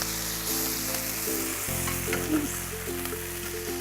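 Fajita bread heating on a tawa over a gas flame, a low steady sizzle and hiss close by, continuous with a brief dip partway through, with no one talking.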